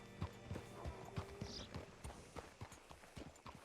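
A horse in the western video game Red Dead Redemption 2 walks with clear, regular clip-clop hoofbeats, close and moderately loud, with a faint whinny and low ambient sound behind it.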